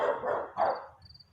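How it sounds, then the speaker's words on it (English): A neighbor's dog barks a few times nearby, short bursts in close succession standing out clearly against a quiet background. "the neighbor's dog is awake now,"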